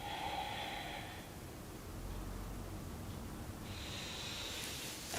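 Slow, soft exhale during a gentle morning yoga breathing routine, a faint breathy hiss stretched over several seconds in a quiet room, with light noise bursts at either end.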